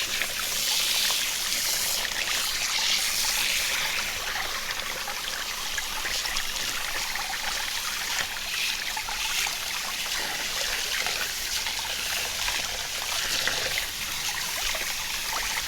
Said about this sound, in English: Getting rinsed out outside here with our cool water.